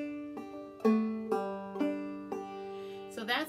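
Clawhammer banjo with a slide ditty and a pull-off ditty, a run of bright plucked notes with sliding pitch changes and ringing strings, close and solo, a brief voice-like sound at the end.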